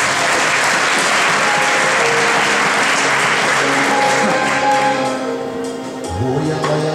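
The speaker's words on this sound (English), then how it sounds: "Clap hands for Marcus." A church congregation claps together loudly at a Kairos Divine Ministries power hour, with dense sustained applause that thins toward the end as a low tone or voice comes in.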